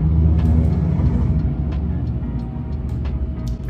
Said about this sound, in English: the cars here are really, really loud.